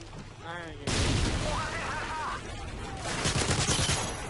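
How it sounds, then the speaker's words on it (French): Call of Duty gunfire crackles in dense, loud bursts amid game noise, with a voice talking over part of it. "On va avoir des petites rafales comme ça"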